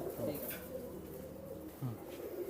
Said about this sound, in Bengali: একটা বেনারস কবুতার আর একটা আছে রামপুরি পাকিস্তানি রামপুরি